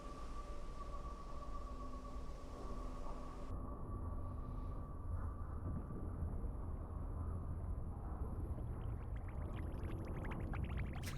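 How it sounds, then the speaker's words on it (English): Bubbling underwater rush from a sinking ship in Silent Hunter 3, a steady loud wash of churning water and low rumble throughout, with faint popping bubbles rising toward the end. "Appropriate sub noise, the bubbles."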